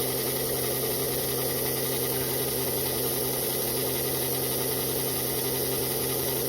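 A new HO slot car motor runs in on a bench with a steady, even electric whine and hum, constant and close throughout with no voices.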